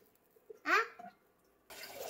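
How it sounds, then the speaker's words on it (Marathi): A cracked coconut, heated over a gas flame, is dropped into cold water, giving a short splash and a bubbling rush of water near the end, after a brief vocal sound. "हा गार पाण्यात टाकूया."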